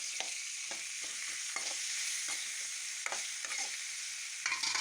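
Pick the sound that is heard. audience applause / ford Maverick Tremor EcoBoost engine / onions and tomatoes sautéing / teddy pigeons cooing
onions and tomatoes sautéing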